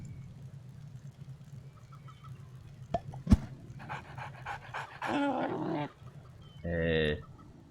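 Dog panting from the dog mouth ability in the video game CHKN, a rapid rhythmic burst of breathy pants near 5 s and another around 7 s, fairly close and clear over a low steady game hum with a couple of sharp clicks earlier.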